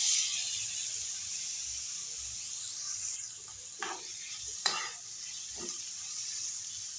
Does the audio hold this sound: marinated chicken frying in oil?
yes